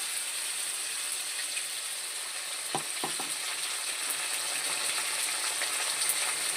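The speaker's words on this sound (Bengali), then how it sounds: "কাঁচা লঙ্কা দিয়ে আমি আর একটু কষিয়ে নেব" Hilsa masala with green chili paste sizzles steadily in a pan, a constant broadband frying hiss with a few brief scraping stirs near the middle, close and even throughout.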